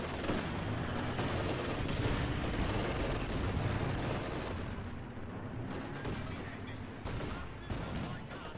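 Battle gunfire and artillery in the World War II strategy game Company of Heroes 2: dense overlapping shots and distant booms form a continuous rumbling backdrop, while a commentator talks over it.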